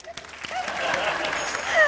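A studio audience at a comedy night bursts into a short round of applause, a dense, steady wash of clapping that swells near the end, with a voice faintly underneath.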